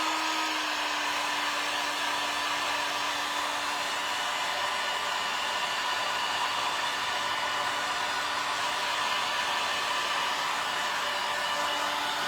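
A heat dryer blows steadily over a cardboard heart craft piece, giving a continuous, even whir that stays close and loud throughout, with no talking.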